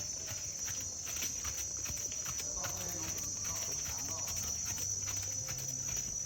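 Horse hooves clip-clop in a steady rhythm during a riding lesson, a constant high insect or cricket drone running over the top and voices talking faintly in the background.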